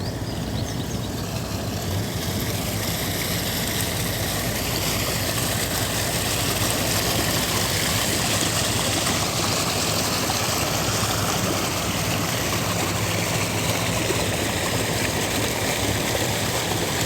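A tractor engine idles on a village morning, holding a steady low rumble at moderate distance without a break and with no talking.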